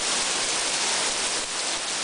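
Steady, dense rain pours down in a continuous hiss, heavy and close, with no other sounds standing out.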